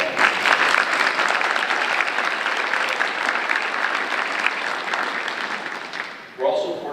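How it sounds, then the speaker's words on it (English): Sustained applause from an audience at a hall of fame banquet, dense steady clapping for about six seconds before trailing off, with a brief burst of a voice near the end. "so we can please give Tran a round of applause"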